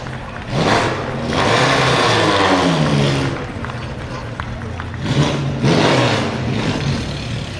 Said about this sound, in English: You wouldn't think that's just a 1-litre engine, would you?